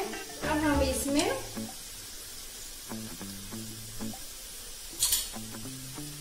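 Onions sizzle softly in a hot pan while a spoon stirs and scrapes them in short, irregular strokes, with someone talking over the cooking at times.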